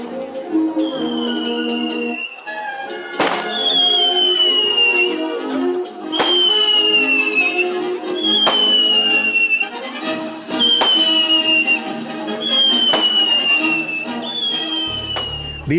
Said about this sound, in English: Please first salute guns